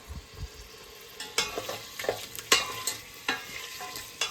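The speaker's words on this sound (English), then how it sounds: "You can just go straight and saute the carrots and, these things here." Carrots, celery and onion sauté in a soup pot, a soft steady sizzle punctuated by several sharp spoon scrapes and stirs at irregular intervals, close and with no talking.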